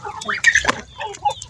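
Free-range village chickens cluck in short, irregular bursts while feeding on mash made with tofu dregs and broken rice, close and fairly clear.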